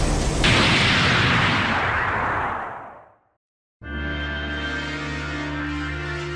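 A Nebula explosion attack in the Saint Seiya Soldiers' Soul video game: a loud, sustained roaring blast that fades to near silence, followed by a steady tonal rumble of game effects.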